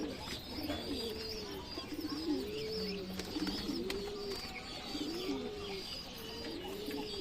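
Pigeons coo in a steady, repeating rhythm inside a breeding loft, several soft rolling calls close by over a faint background hum.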